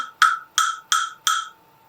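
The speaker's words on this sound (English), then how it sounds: "we're going to use a wood block, and that gives us a wooden instrument to listen to" Four evenly spaced, sharp hollow knocks come from a wood block played in a winter music-and-movement lesson, each a crisp, close, dry tap with a brief decay and no voices.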